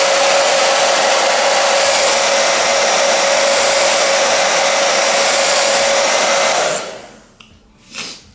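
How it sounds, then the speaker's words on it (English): A hair dryer blows steadily and loudly on the baby hair of a bob wig, a continuous whooshing roar that cuts off near the end, leaving a brief softer rustle. "I'm just blow drying my baby hair"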